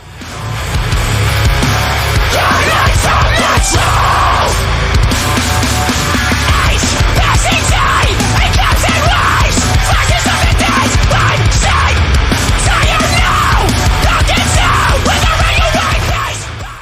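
Loud, dense metalcore plays throughout, with distorted guitars, pounding drums and harsh screamed vocals, continuous and full.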